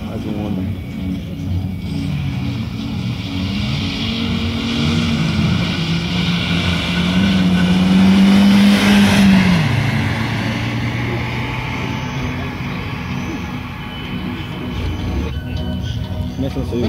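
Engines run continuously at an event in Agueda, a loud steady drone that swells and rises in pitch near the middle before easing back, with people talking over it.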